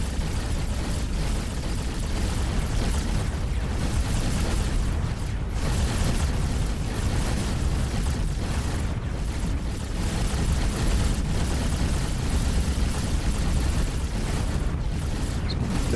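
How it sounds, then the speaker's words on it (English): In the space game X4: Foundations, graviton turrets fire amid a dense, continuous roar of explosions and rumbling booms, loud and sustained throughout without pause. "Devastating with those graviton turrets."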